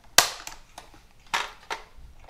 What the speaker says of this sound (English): I'm going to just snap the lid back in